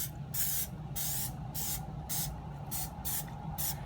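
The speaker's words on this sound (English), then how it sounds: "this anti-spatter spray, what it does is it's designed to keep any of the metal spatter from the MIG welding process from getting on" An anti-spatter spray can for MIG welding gives about seven short hissing bursts in an even rhythm, each roughly a third of a second with brief gaps, fairly quiet and close, with no voices.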